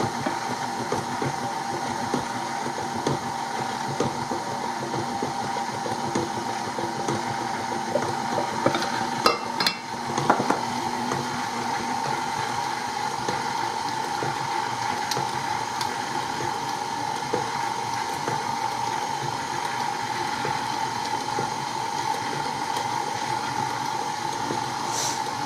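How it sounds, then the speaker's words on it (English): An electric mixer beats sour cream cake batter in a bowl with a steady, moderately quiet motor hum, broken by a few brief clatters partway through. "I hope that mixer's not too loud for you."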